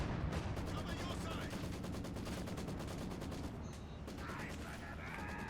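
Bursts of gunfire hit grenadiers in the Company of Heroes 2 war game, rapid rattling machine-gun volleys with scattered shots and faint mechanical clanks over a dense battle din.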